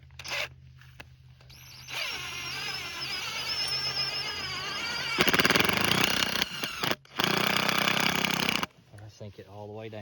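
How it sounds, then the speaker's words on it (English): A cordless drill drives a steel trap stake deep into the ground while setting coyote traps. The motor whines in bursts of a few seconds each, with brief pauses between runs and short gaps of quiet. "I actually brought my drill along with me too"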